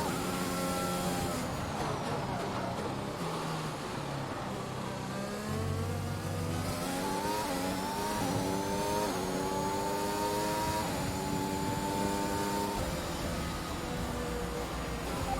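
Formula 1 race car engine in the F1 2021 racing game, screaming loud and close for the whole stretch, its pitch rising and falling through repeated upshifts and throttle changes with no talk over it.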